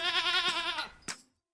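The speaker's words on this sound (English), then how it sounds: "goat" A single goat bleat, loud and close, with a wavering, stacked tone lasting about a second before a short extra cry and sudden silence, heard alone with no talk.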